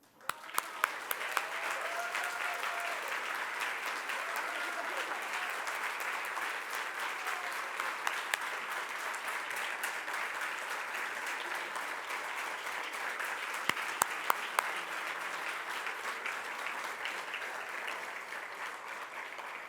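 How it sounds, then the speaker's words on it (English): Sustained audience applause at a foundation award event, a dense steady wash of many hands clapping for nearly twenty seconds at moderate distance, with a few sharper claps near the start and middle and no talking over it. "I would like us all to give them a big round of applause."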